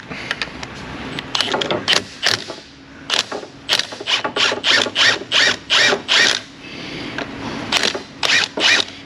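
A socket wrench spins a strut nut off a Volkswagen Jetta in a repair shop, making a run of close, loud ratcheting bursts in a rapid, uneven rhythm, with short pauses between spins.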